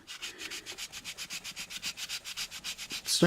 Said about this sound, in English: with our sandpaper block. Remember to cross sand.